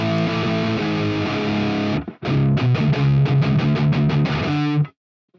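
Overdriven electric guitar pushed through a Tube Screamer into a metalcore-style amp tone for a song, playing loud sustained distorted chords, then a brief break and a run of rhythmic chugging hits before stopping abruptly.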